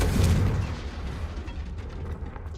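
In the video game Hogwarts Legacy, a Confringo fire spell explodes with a booming, rumbling burst. The blast is close and loud at first, then fades into a long, noisy tail.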